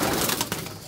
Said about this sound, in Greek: Τίποτα πουλάκια. Σκέτα πουλάκια,